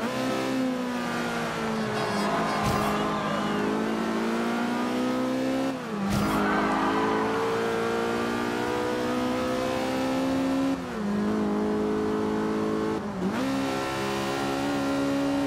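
Car engine in the racing game Forza Horizon 2 revs loud and close, pitch climbing steadily then dropping sharply at each gear shift, repeating through several rising sweeps with no talk over it.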